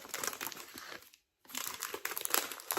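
A scalpel cuts open the top of a plastic pack of diamond painting drills, giving close, crinkly plastic rustling in bursts. A short silent gap falls in the middle before the crackling resumes.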